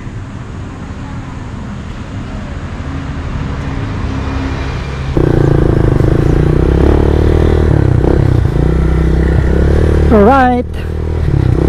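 A Ducati Panigale sport bike on a test ride runs with a loud, close engine drone that jumps in level midway, while a person talks briefly over it.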